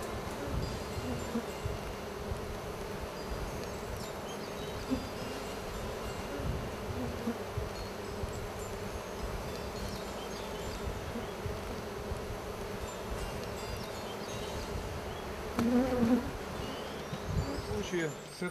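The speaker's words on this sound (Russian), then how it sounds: "Много пассивной пчелы." A steady, close droning hum of many honeybees buzzing together at a hive showing swarming mood, continuous and even in loudness.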